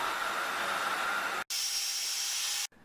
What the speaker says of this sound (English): I'm just going to use this hairdryer to dry it out quickly.